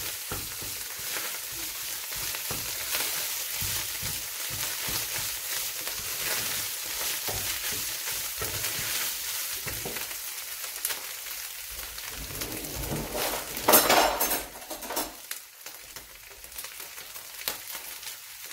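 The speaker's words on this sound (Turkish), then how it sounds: "Şimdi salçayı kavuruyorum." Tomato paste sautéing in a pan gives a dense, steady crackling sizzle that runs throughout, with a louder stirring flare-up near the end and no talk.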